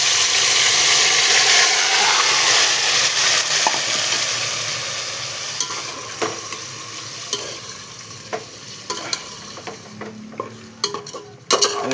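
Marinated chicken for biryani stirred and fried in a pot: a loud, steady sizzle at first that gradually settles, with spoon scrapes and knocks against the pot growing more distinct toward the end.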